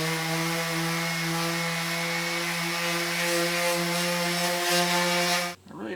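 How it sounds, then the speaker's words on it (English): An orbital sander with 180-grit paper strips primer from the body of a 2006 Fleetwood Niagara pop-up camper, giving a steady, close, continuous whir with a sustained tonal hum that cuts off abruptly near the end. "I've been using an orbital sander with 180 grit on it."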